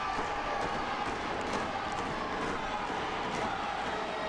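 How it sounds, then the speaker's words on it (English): Spectators at a lumberjack street fight wrestling match in Cedartown, Georgia, a steady wash of crowd roar and cheering that holds at an even level throughout, fairly distant and diffuse, with no clear speech on top. "You can just hear the thunderous roar of the crowd here in Cedartown, Georgia."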